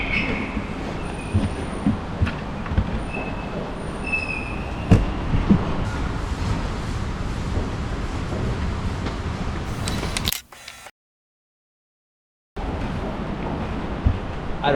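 Escalators run with a continuous rumbling, squealing mechanical drone in an underground space, steady and fairly loud, cutting out briefly to silence near the end before resuming.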